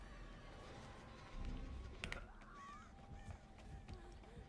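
Crows caw in a video game where birds are sent out across the map, with a few scattered, fairly faint calls over a busy background of game sounds and noise.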